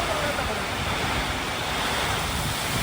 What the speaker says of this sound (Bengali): দেখো কেমন বৃষ্টি হচ্ছে গাইস